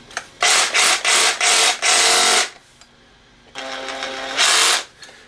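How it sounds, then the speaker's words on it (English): A Sawzall reciprocating saw running on a portable LiFePO4 power station, buzzing loudly in several short bursts and then one longer run, with brief pauses between, close up and without talk. "Maybe I'm out camping and I have my Sawzall with me."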